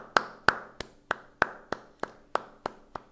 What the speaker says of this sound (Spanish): Aplausos para Luis Enrique